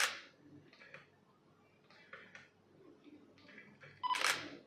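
A camera lens autofocusing, quiet whirring and clicking bursts of focus motor movement, faint and spaced out, ending in a sharper louder click, with no voices.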